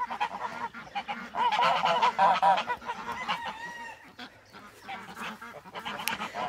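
Bourbonnais geese, a gander and three females, honk loudly and repeatedly at close range, with overlapping calls rising and falling across several seconds in a farmyard setting.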